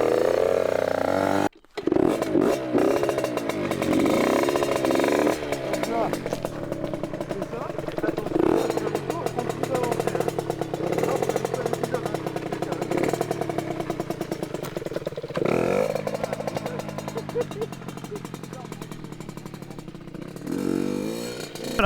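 A 50cc Mobylette moped built for motocross fires up after a brief drop-out and keeps running with a rough, buzzing rattle and uneven revving, loud and close throughout.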